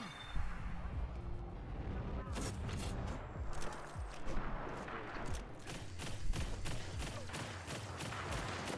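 Video game gunfire rings out as a run of sharp, evenly spaced shots in the second half, layered over busy game sound and a voice talking.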